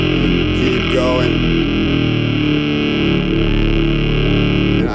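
A heavily distorted seven-string guitar tone played from a keyboard with Spectrasonics sounds, dense and sustained with low chugging notes, loud and continuous throughout, ending on a brief shift in texture.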